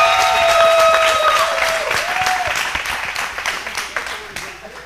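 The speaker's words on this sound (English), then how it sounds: "Clap it up, clap it up." At a live finance seminar, a crowd claps loudly and cheers, with a few whistle-like tones rising above the applause early on. The clapping gradually thins and fades toward the end.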